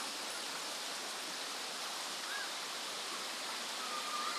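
River water rushing in the rain near the upper stretch of a river, a constant broadband roar of flowing water that stays even and steady throughout with no voices.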